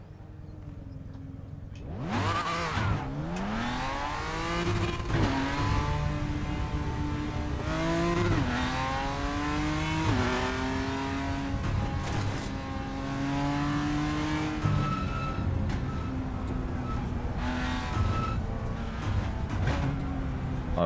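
A race car engine revs continuously in the racing game RaceRoom Racing Experience, climbing and dropping through gear shifts with rising whines, loud and steady throughout with no talking.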